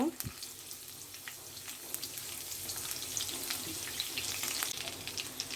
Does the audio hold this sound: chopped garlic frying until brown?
yes